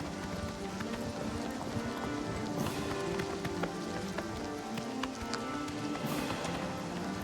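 Steady rapid hoofbeats of a galloping horse in the video game Oblivion Remaster, continuous and close, over a dense noisy background.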